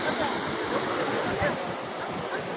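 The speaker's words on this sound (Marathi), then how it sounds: "नदी हा झाडापर्यंतच नदी आहे पा, पण 4 पटीने भरून चाललेली आहे" A flooded river swollen to four times its usual level rushes in a steady broadband roar, with wind buffeting the microphone outdoors among gathered villagers.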